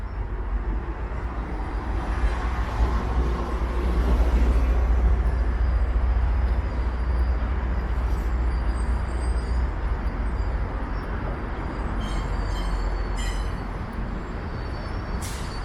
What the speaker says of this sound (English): There's an eastbound GO train.